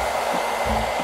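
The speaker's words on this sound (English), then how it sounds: "When I turn this hairdryer on, air rushes out this way." A hair dryer blows a steady, close rush of air with a constant motor whine, uninterrupted for the whole short moment.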